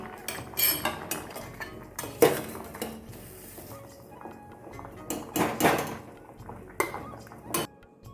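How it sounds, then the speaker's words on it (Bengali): A fork mashes hot boiled potato in a bowl or pan, producing irregular clinks and scrapes of metal against the dish, with some sharper knocks between quieter stretches. "আলুটা আমি এবারে কাটা চামচ নিয়েছি ম্যাশ করে নিচ্ছি খুব ভালোভাবে গরম অবস্থাতে"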